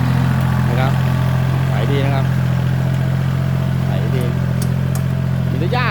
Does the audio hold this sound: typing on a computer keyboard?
no